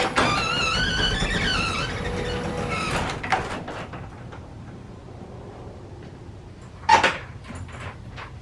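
A workshop door slides open with a sustained scraping, rumbling roll for a few seconds, followed by quieter rattling and a brief sharp knock as it stops.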